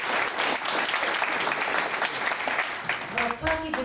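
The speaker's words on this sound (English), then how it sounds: "Let's give them both a big round of applause." Audience applause at a party or gathering, dense and sustained clapping from a crowd throughout, with voices rising over it toward the end.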